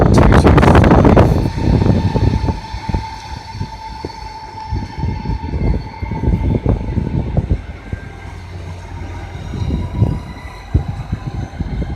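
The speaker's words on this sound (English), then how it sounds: "there's a Northern Rail departing to Manchester Piccadilly, I believe" A Northern Rail train pulls out of Manchester Airport station, starting with a loud roar and a horn-like blast, then a steady rumble with rhythmic clacks of wheels over rail joints as it moves away, heard on its own.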